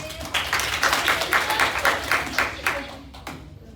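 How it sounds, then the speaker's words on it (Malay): Students in a classroom clap their hands together in a short round of dense, quick applause lasting a few seconds, then fading out. "Kita tepuk tangan sikit."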